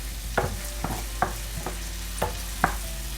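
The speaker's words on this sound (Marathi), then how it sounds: "त्याच्यात मी आता हे टोमॅटोही टाकून घेते" Tomatoes frying in a pan for crab curry, a steady sizzle under a handful of scraping stirs from a spoon, close and moderately quiet, with no talking.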